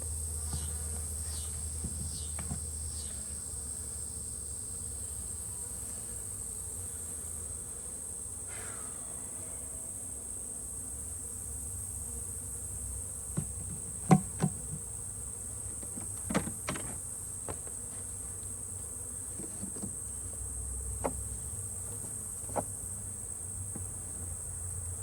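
Honeybee swarm in August buzzing steadily around a hive, a continuous insect drone with scattered clicks and knocks, no talking.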